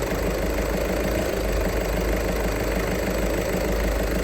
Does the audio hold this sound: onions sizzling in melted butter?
no